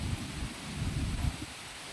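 Steady, loud wind from Typhoon Kristine roars and buffets against the microphone, with a dense low rumble and rustling of bamboo throughout and no voices.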